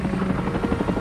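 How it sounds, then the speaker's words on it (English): A helicopter roars close by over jungle, its rotor beating in a steady, rapid thump under a continuous engine drone. "The helicopters roar up Roquel Creek."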